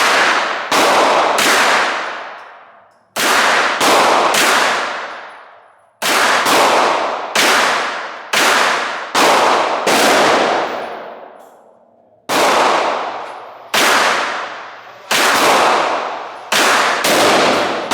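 Loud, sharp gunshots crack one at a time at an outdoor shooting range, each followed by a long fading echo, spaced irregularly over the stretch with some quick pairs.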